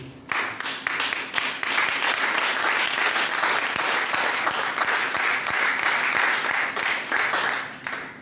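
A church congregation breaks into sustained, dense applause that swells quickly and holds steady for several seconds before tapering, with no speech over it.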